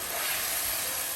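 Mushroom and bacon pieces sizzle in a hot pan, giving a steady, even hiss that runs the whole moment with no voices over it.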